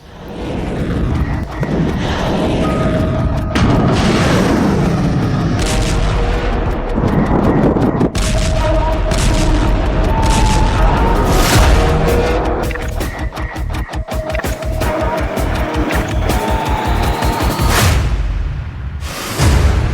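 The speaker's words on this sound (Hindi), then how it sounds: "ईरान ने इराक के इरबिल में मिसाइलों की बौछार कर दी है" Missile strikes explode in Erbil, Iraq, as a dense, continuous barrage of loud booms and blasts with rumbling, artillery-like impacts running throughout, heavily layered and very loud.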